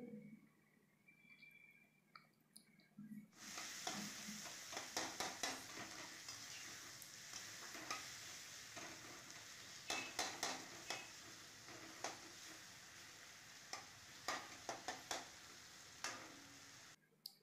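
Coriander leaf paste fries in a pan for a dahi arbi curry, starting abruptly as a loud, steady sizzle with repeated scraping stirs of a spoon and the odd clink against the pot.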